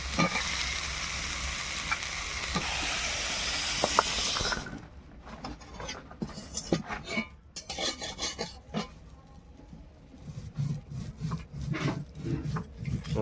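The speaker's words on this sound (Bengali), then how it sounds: "কাঁচকলা দিয়ে দিচ্ছি সেটাকেও ভেজে ঝিঙ্গে ঝিঙ্গেগুলোকে দিয়ে দিচ্ছি ভেজে নেওয়ার জন্য" Green banana and ridge gourd fry in oil in a village kitchen: a loud continuous sizzle for the first few seconds, then quieter crackling with scraping and stirring noises.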